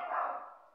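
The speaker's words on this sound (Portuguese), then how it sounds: "Foi bonito, porque você tá latindo bonito." A single short dog bark, fairly faint and slightly distant, followed by a brief sharper yip at the end.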